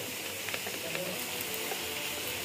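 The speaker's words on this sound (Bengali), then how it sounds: "এদিকে ভাজা চলছে" Dragon chicken frying in a hot pan gives off a steady, dense sizzle with small crackles throughout, close and continuous with no talking.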